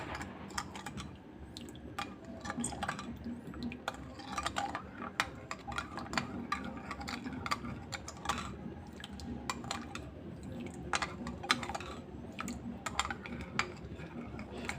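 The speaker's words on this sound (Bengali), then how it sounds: "ভালো করে চিনিটাকে মিশিয়ে নিতে হবে।" Sugar being stirred into hot milk, heard as repeated light clinks and scrapes of a spoon against the vessel, with a soft liquid swirl beneath, close and steady throughout.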